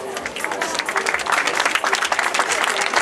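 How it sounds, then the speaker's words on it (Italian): Audience applause fills the room at the Miss La Riviera 2012 beauty pageant semifinal in Riva Ligure, a steady, dense clapping that swells slightly and holds for a few seconds. "la pausa fa partire l'applauso"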